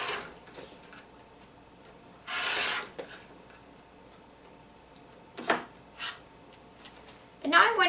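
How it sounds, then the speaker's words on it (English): A rotary cutter slices excess fabric from a quilt block, heard as a few short, close scraping strokes separated by quiet pauses, the last one crisper and more rasping. "I'm just going to take my rotary cutter and I'm going to cut that excess away"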